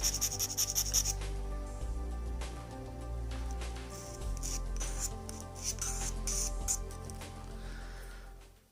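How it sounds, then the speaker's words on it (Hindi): A reed qalam pen nib rubbed back and forth against a surface to shape it: close, steady scraping rasps in a continuous rhythm against a low background hum. "ये मैंने रगड़ रगड़ कर ये इसका कात बहुत प्यारा कर दिया है"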